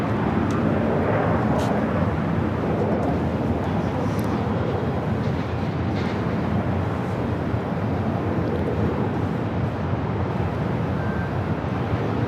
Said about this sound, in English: Our heavy arrival is Iberia Flight 351 coming in from Madrid.